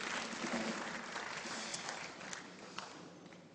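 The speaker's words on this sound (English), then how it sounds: "Let's give a round of applause to Jesus as we take our seat." A church congregation claps together in a steady wash of applause, moderately distant and fairly quiet, with faint voices mixed in.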